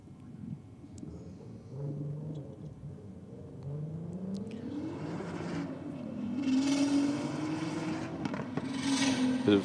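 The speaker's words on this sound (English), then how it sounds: "Bit of a couple of upgrades on the BMW by the sounds of things. I can hear some turbo noises happening down there." A turbocharged BMW 335 drag racing, engine revving and climbing in pitch at a distance, growing louder as it accelerates, with whooshing turbo noise.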